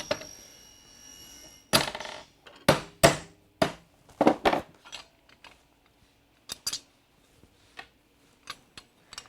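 Hammer knocking bolts out of a Ryonet screen clamp on a solid surface: about a dozen sharp metallic knocks in irregular bursts, loud and close at first, then lighter taps spaced apart.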